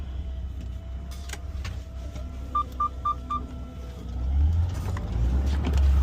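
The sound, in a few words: truck backing up to hook up trailer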